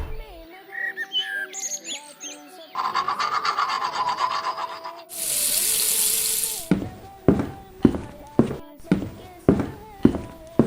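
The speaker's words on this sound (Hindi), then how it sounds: "और नल भी खुला छोड़ दिया" Water gushes from a tap left open in a 3D animated cartoon, a steady hiss lasting about a second and a half amid rubbing, scraping effects and bird chirps, followed by sharp rhythmic taps.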